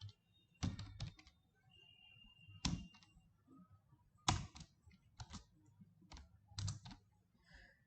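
C# code being typed on a computer keyboard: irregular bursts of crisp, close keystroke clicks separated by short pauses, with no talking.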